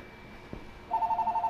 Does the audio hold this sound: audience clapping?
no